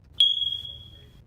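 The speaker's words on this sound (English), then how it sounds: "that's the fire alarm" A single sharp electronic chirp from a fire alarm, like a smoke detector with a low battery, rings out once and fades over about a second, with no other sound.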